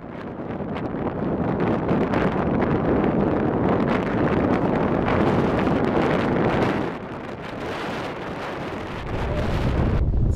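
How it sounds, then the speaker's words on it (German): Strong wind in Patagonia roars and buffets the microphone continuously, briefly easing before gusting hard again. "The wind is so hard."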